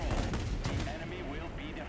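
Rapid bursts of gunfire from a Messerschmitt Me 32 ground attack plane in the World of Warplanes video game, a dense, continuous rattle over engine drone, with a voice faintly present underneath.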